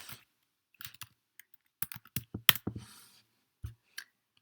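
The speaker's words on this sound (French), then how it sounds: "Alors, et là, on va taper convertisseur" Typing on a computer keyboard, heard as scattered bursts of sharp key clicks with short pauses between groups, close and fairly quiet in an otherwise silent room.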